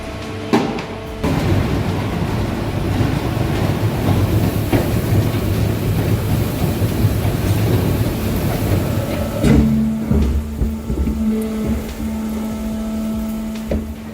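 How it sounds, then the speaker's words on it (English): German briquetting press compressing aluminum scraps into dense 60 by 40 millimeter blocks, a steady loud industrial rumble and grinding throughout, shifting to a sustained mechanical hum with a tonal whine near the end. "briquetting press turns aluminum scraps into dense 60 by 40 millimeter blocks"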